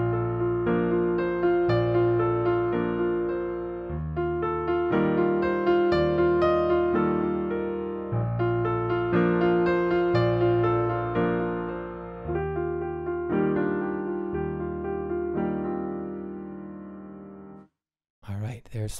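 Solo piano playing the opening of a song, a slow progression of clear sustained chords with a steady pulse and gentle decays, close and moderately loud, ending with a brief pause and a small bump.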